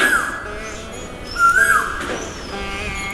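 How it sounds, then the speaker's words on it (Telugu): An Asian koel calls loudly in the garden of a temple in Kondapur, Hyderabad, giving repeated rising, ringing notes that stand out clearly over a soft outdoor background. "చూసారా కోయిల ఎంత గట్టిగా అరుస్తుందో."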